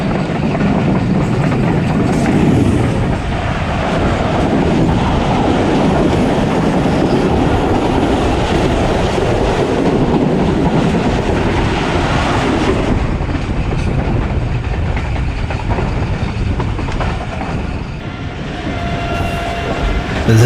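A passing passenger train hauled by a ZC30 diesel locomotive, heard loud and close as a continuous heavy rumble and clatter of wagons on the rails, fading slightly near the end.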